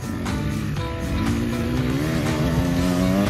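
Motocross motorcycle engine running steadily with a rising rev and shifting pitch, close and loud, continuous throughout with no talk.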